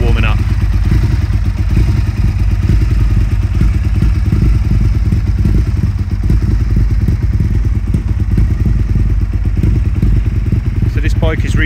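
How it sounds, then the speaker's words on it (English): A 2001 Aprilia SL1000 Falco V-twin ticks over at idle on a cold November afternoon, a loud, close, lumpy engine burble with light mechanical clatter and a brief whine at the start and end. "Just going to step back and walk around the bike and let it tick over."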